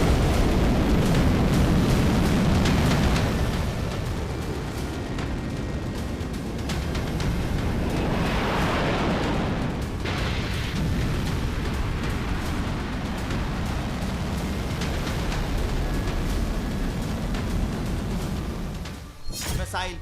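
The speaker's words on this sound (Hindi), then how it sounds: "मिसाइल प्योंगयांग अंतर्राष्ट्रीय हवाई अड्डे से लॉन्च की गई" A Hwasong-17 ICBM lifts off from Pyongyang International Airport with a continuous, heavy broadband roar that rumbles steadily for many seconds, loud and unbroken until it cuts off near the end.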